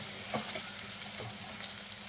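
Onions sauté in a pan for a lemon skin chutney, giving a steady, soft sizzle with occasional stirring scrapes close by.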